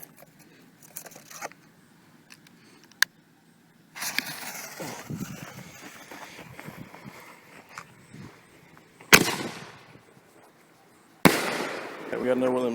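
Powder Keg Night Stalkers canister artillery shells detonating, with sharp loud bursts near 9 and 11 seconds followed by crackling and hissing tails, earlier softer pops and a long stretch of rumbling crackle, with voices faint in the background.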